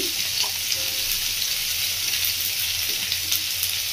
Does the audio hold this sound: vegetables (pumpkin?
yes